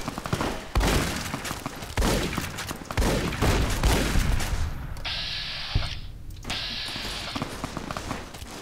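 Fiends open fire in Fallout: New Vegas, a dense burst of rapid gunshots and heavy impacts through the first several seconds. Mechanical whirring and clatter follow as the shooting thins out.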